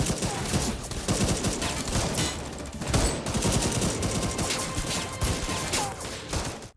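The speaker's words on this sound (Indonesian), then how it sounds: "Dikarenakan gak ada pilihan lain, aksi baku tembak pun gak bisa dihindarkan." Dense, continuous gunfire fills a film shootout between robbers and police, with rapid overlapping shots, automatic bursts and crashes, loud and unbroken with no talking.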